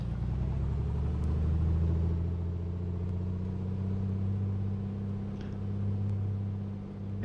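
A steady, loud piston engine from an A2A Piper Comanche 250 in a flight simulator drones at run-up power, deep harmonic rumble holding constant with slight swells, no voices.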